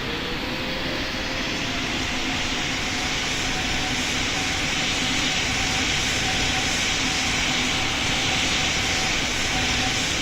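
A Lufthansa Airbus A380 airliner takes off in the flight game PTFS, its jet engines roaring loud and steady with a faint high whine held across the whole stretch.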